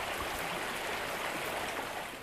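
A small river runs near a forest camp, feeding the Chetco River: a steady, broad rush of flowing water, close and continuous with no voices.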